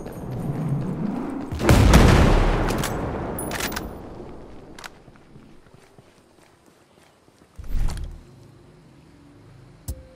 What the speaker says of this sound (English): we got mortars coming